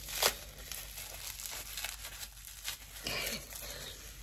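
A razor blade cuts into plastic wrapping with crinkling, scraping and tearing sounds, close and fairly quiet, in several short uneven strokes.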